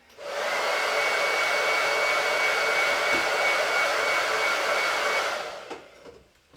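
A hair dryer runs steadily for about five seconds, drying a chalk-paste craft project, a close, constant whooshing whir that starts abruptly and then winds down, followed by a few faint handling clicks.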